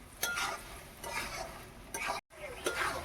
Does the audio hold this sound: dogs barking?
no